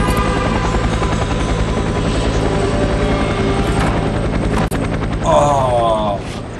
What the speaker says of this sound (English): Chopper Echo 2-4 is right on top of you. Take it out.